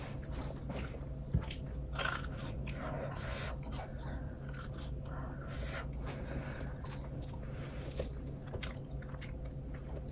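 Close, crisp biting and steady chewing of a crunchy Korean bungeoppang, a fish-shaped pastry with a crispy shell and moist inside, with continuous mouth sounds and crunches over about ten seconds and no talking.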